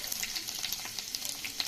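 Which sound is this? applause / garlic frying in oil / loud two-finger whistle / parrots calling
garlic frying in oil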